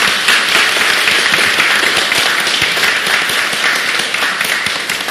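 A church congregation applauds during a Christmas service, dense, loud, sustained clapping filling the room without a break.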